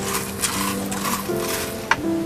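Coffee beans roasted by hand in a pan, a steady dry stirring and scraping with occasional metallic clinks, continuous and close with a low background hum.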